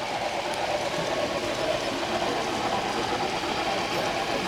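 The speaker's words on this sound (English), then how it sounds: "I got trains coming at me from both sides" Model trains run continuously on a museum layout in Texas City, producing a steady, fairly faint rumbling clatter with no one talking.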